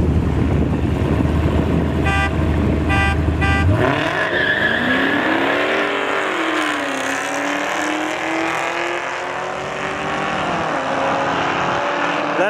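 A car does a burnout at a street race between a Dodge Hellcat and a C6 Corvette: a loud, sustained engine roar with rising and falling revs and tire noise, preceded by a few short horn-like blasts.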